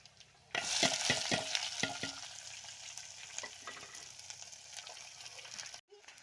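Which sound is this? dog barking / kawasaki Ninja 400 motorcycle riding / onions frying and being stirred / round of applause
onions frying and being stirred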